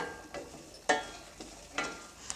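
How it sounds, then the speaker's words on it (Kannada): Lemon pickle being stirred as it boils in a pan: a quiet bubbling simmer broken by a few distinct spoon scrapes at uneven intervals, with no talking. "ಇದನ್ನು ಚೆನ್ನಾಗಿ ಮಿಕ್ಸ್ ಮಾಡಿ ಒಂದೆರಡು ನಿಮಿಷದ ಒಂದೆರಡರಿಂದ ಮೂರು ನಿಮಿಷದವರೆಗೂ ಚೆನ್ನಾಗಿ ಕುದಿಸ್ಬೇಕು"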